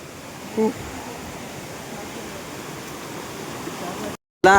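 Rushing water roars steadily from a waterfall, a dense continuous wash broken by a brief thump and a short silent gap near the end.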